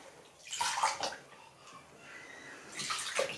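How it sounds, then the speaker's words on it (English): Hair extensions, including their top clip sections, dunked and soaked in a basin of toning water, giving two short bursts of splashing and sloshing with a quieter watery stretch between them. "just make sure you just dunk the top clip parts just so they get a good soaking as well"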